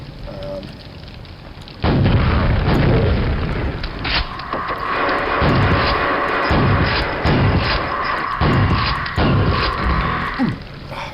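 A rocket jump in Quake 1 sets off a loud, sudden blast that rumbles and crackles for several seconds before fading.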